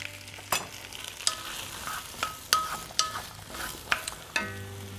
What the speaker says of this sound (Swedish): Så lägger i löken.